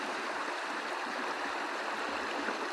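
Steady, rushing flow of a river, a broad continuous wash of water with no pauses, close and fairly even in loudness.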